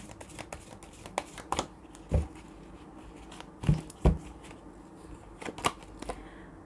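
A deck of tarot cards being shuffled by hand, heard as a string of quick papery riffles and flicks with a few louder bursts, fairly quiet and close, with no talking.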